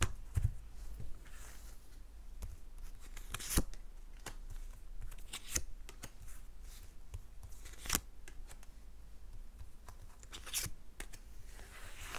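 Tarot cards are shuffled and drawn with a soft, continuous rustle of sliding cardstock. Sharper snaps and taps recur every second or two, close up and without talk.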